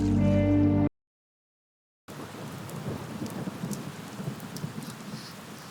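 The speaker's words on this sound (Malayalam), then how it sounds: "ഞാൻ പറഞ്ഞില്ലേ മഴ പെയ്യുന്ന." Steady rain falling with rumbling thunder in a film scene, a dense continuous wash that starts abruptly after a brief musical passage and a short silence.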